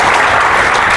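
Loud, dense applause from an audience at a scholarship trust gathering, continuous clapping filling the short moment without any voice on top.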